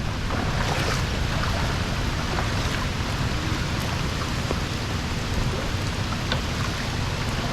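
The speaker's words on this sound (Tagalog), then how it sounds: "Lakas pa ng ulan." Heavy rain pours steadily during Typhoon Tino flooding, a dense continuous wash of drops on water and surfaces with no break, loud and close throughout.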